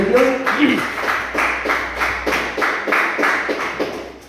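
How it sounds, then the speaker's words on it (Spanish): A church congregation claps their hands together in a steady, even rhythm of roughly two claps per second, loud and close, with a faint low murmur underneath. "Le damos una fuerte ofrenda de palmas a"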